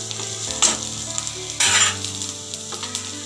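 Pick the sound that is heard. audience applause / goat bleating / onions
onions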